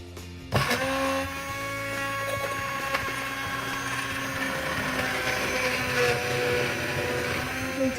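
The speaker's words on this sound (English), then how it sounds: "continue this long and painful task of blending it all with one of these hand blenders" A hand blender whirs continuously through tomato and potato soup after switching on abruptly, a loud steady motor drone with slight wavering as the blade works through the chunks, no voices over it.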